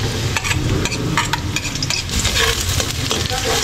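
Chopped garlic and onion fry in a pan while being stirred for chop suey, a steady loud sizzle broken by repeated scraping and tossing sounds.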